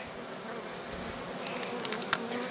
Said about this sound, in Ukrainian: влаштовує моя бджола